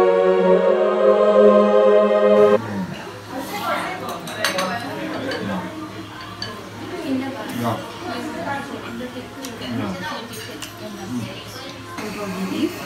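Metal chopsticks clink lightly against dishes during a meal of glazed bulgogi beef with sesame seeds and rice at a halal Korean restaurant in Seoul, small scattered taps running under steady conversation and chatter.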